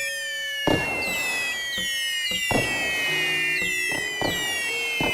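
Synthetic fireworks from the voxel VR game cyubeVR: several sharp bursts with crackling tails, overlaid by rising and falling whistling tones, fairly loud and close with no talking.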